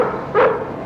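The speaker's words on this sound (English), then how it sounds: "That's the dog!" A single short bark from Lassie, the collie, sharp and fairly close, sounding after a quiet lead-in and standing alone with no talk over it.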